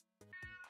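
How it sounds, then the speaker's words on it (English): A cat gives a quick, faint meow in a couple of short rising pulses, heard alone in a quiet room. "Oh, you heard it. Meow!"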